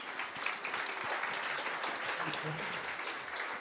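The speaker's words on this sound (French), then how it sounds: "on peut les applaudir" An audience at a morning conference round table applauds, a quiet, steady patter of many hands heard at a distance, with faint voices underneath.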